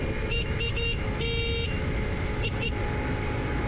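Horn of a 50cc GY6 scooter sounding several short honks, then a longer blast, then two more quick toots, all close and loud over a steady hum of road and engine noise.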